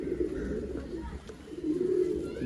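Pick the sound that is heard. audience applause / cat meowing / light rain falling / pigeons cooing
pigeons cooing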